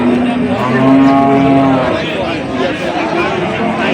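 A dairy cow gives a long, loud moo up close, with a second lower call overlapping, while people talk and murmur nearby on a busy livestock market in Dinajpur, Bangladesh.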